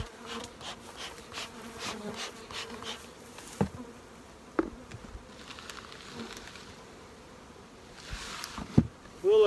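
Steady buzzing from honey bees around a hive, a continuous drone with occasional louder passes close by and faint background noise.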